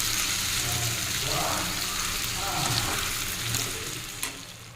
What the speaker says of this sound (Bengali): এই যে চিকেন রান্না হচ্ছে তো আমি ভালো করে কষাই করে নেবো চিকেনটাকে